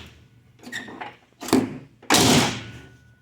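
Custom lift-up door handles being worked on a 1992 Chevrolet Camaro door, giving a few mechanical clicks and thunks followed by a solid door-closing thud, close and fairly loud.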